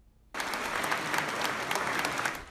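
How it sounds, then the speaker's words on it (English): Applause for president-elect Trump at a Christmas Eve church service in Palm Beach, a dense steady wash of many hands clapping that starts abruptly after a brief quiet moment and continues loudly throughout. "The president-elect was greeted with applause Christmas Eve as the Trump family attended services in Palm Beach"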